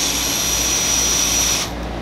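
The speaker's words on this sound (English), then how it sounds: "Now, you want to take them out, reverse your drill." A cordless drill runs in reverse to back pocket hole screws out of wood joined with a Kreg 520 Pro jig, giving a loud, steady motor whine that cuts off sharply after about one and a half seconds.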